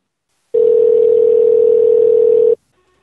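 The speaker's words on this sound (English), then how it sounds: "Linda, why don't you answer your phone while I'm calling you?" A single steady telephone call tone rings out while a phone is being called: one loud, unbroken electronic beep lasting about two seconds, starting and stopping abruptly, with silence before and after.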